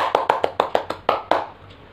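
An audience claps at a spoken English vocabulary lesson, eight or so crisp, close claps in a brisk, slightly uneven rhythm that stop abruptly and leave a short quiet tail.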